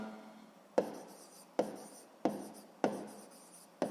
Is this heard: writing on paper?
yes